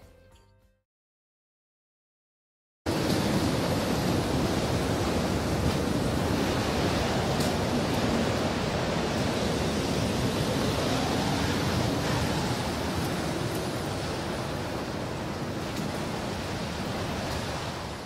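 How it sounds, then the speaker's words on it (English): Strong wind roars across a coastal 4WD campsite in South Australia, a loud, steady broadband rush with surf-like surges that starts abruptly after a short silence and holds for about fifteen seconds, with no voices. "That wind was like nothing I've ever heard."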